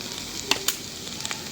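Bitter gourd frying in a pan gives a steady oily sizzle, with a few sharp clicks and taps as the pieces are stirred, close and moderately loud with no talk.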